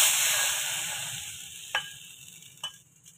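Moong and masoor dal hits hot tempering oil in a frying pan with a loud, bright sizzle that gradually dies down, broken by a couple of small crackling pops.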